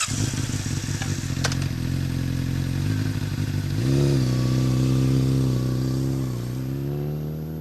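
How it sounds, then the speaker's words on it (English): A 2007 Honda CBR600RR sport bike passes by, its exhaust droning steadily, then rising in pitch and volume as it revs up close before fading slightly away. "I'm just going to do a quick drive-by so you can hear the exhaust"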